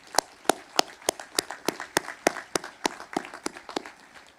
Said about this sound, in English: So let's give our leaders a big round of applause